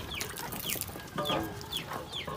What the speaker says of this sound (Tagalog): Yung mga native chicken.